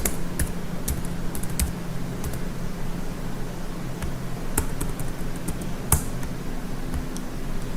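Code being typed on a computer keyboard, irregular bursts of sharp, close key clicks with brief pauses over a low steady background hum.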